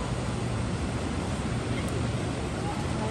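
Waves of water surge at Pearce Estate Park in Calgary, making a continuous loud rushing wash mixed with wind buffeting the microphone, without speech.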